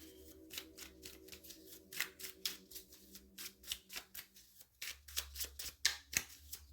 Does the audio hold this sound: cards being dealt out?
yes